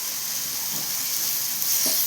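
Vegetables sautéing in a pan for a hotel-style vegetable kurma give a steady, soft sizzle throughout, with a couple of faint stirring scrapes and no talking.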